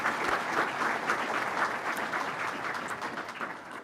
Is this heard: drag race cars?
no